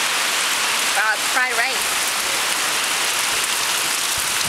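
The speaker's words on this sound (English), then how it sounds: "And now the rain comes." Heavy typhoon rain pours onto a lake in Khao Sok, Thailand, a dense steady hiss filling the whole stretch, with a brief voice speaking over it.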